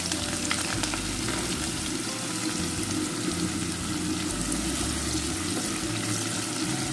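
Onions frying in a pot for Nigerian egusi soup with tomatoes, a loud, continuous hiss and crackle of hot oil that holds steady throughout, close by and with no talking.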